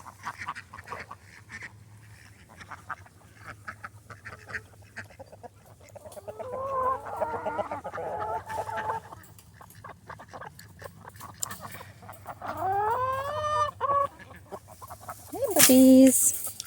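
Backyard chickens cluck and squawk on bed clean-out day as lettuce is brought to them, scattered calls over a low hum with a few louder, closer squawks near the end and some quiet talk.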